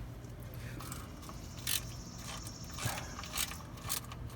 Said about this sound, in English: So all we're doing right here is unscrewing it and then letting it leak down.